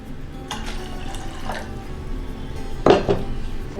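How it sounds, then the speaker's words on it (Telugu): A cup of water is poured into a cooking pot while preparing ragi malt, with light splashing and faint clinks followed by a sharper metallic clank of the pot near the end. "1 కప్ వాటర్ వేసుకుందాము."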